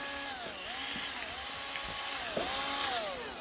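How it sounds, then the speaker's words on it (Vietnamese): Japanese-market cordless drill running steadily, its whining motor pitch rising and falling in repeated speed sweeps at close range, with no talking. "còn cái máy khoan này"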